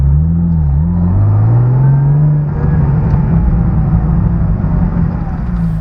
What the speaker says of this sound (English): A little bit of exhaust here.